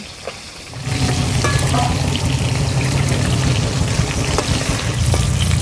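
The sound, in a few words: washing cut elephant foot yam pieces in water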